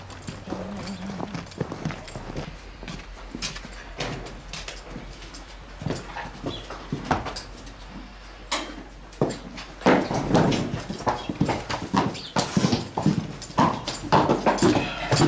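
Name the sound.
horses walking, hooves clopping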